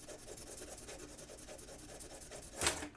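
Metal rubbed back and forth on 400 grit sandpaper over a flat surface to remove file marks, a soft rhythmic scratching of quick regular strokes, faint and close, ending with one brighter scrape.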